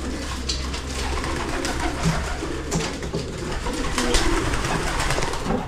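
Grizzle-coloured pigeons coo in a bird loft during feeding, a steady murmur of overlapping soft calls with other birds around and ambient noise throughout.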